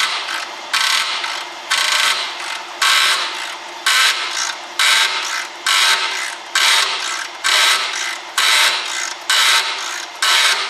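A ratchet works loose the rear brake caliper bolts on a Citroen C5, a rapid clicking in about ten regular bursts with short pauses between strokes, close and alone.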